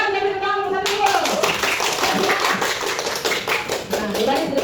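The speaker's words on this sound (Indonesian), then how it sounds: "kita beri tepuk kelompok 1 dulu" A classroom of children claps for group 1, a brisk burst of many hands in a fairly rhythmic patter after a teacher's voice, continuing steadily under faint talk.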